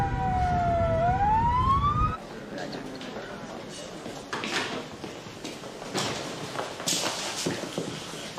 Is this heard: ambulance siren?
yes